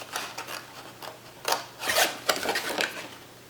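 Scissors snipping a paper sheet along a score line for a DIY spring milk carton craft, a few short dry rasping cuts close up in a quiet room.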